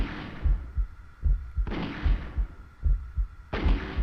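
The player's gun in the video game Shadow Man fires slow, heavy shots, each a deep booming thud with a ringing tail, spaced roughly every half second to second with no talking.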